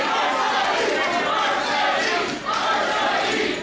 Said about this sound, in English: And a split crowd here in Berwyn.